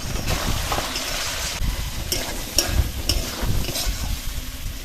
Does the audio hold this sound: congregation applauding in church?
no